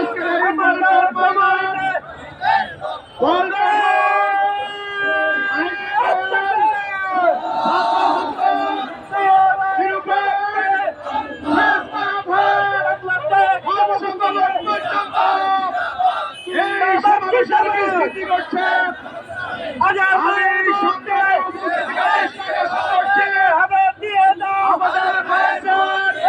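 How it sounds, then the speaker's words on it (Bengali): A protest procession in Dhaka, with a large crowd chanting loudly in rhythmic, repeated call-and-response slogans, sustained and close for the whole stretch. "আমাদের ঢাকা মহানগরীতে সকাল থানা থেকে মিছিল আসছেন"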